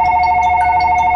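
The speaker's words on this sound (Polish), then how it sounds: "Och, poczekajcie, ważny telefon." A telephone ringing with a loud, steady electronic tone, close and continuous through the moment, with no talk over it.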